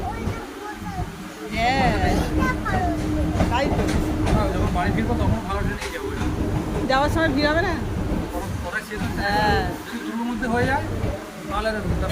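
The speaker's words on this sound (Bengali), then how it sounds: "সোনারপুর লোকালে উঠবো যাদবপুরে নামার জন্য" A moving Sonarpur local commuter train in Kolkata rumbles steadily, with people talking loudly nearby throughout the crowded carriage.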